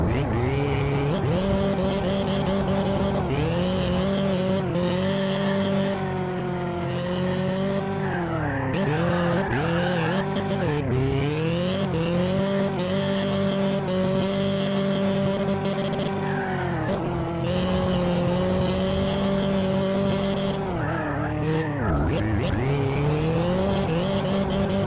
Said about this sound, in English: How cool is this Rallycross track by Race League?